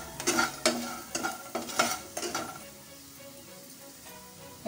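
Puffed rice with turmeric, masala powder and salt being stirred in a pan as a masala mudhi snack, quick rattling scrapes in a busy run for the first half, then only a soft low sizzle.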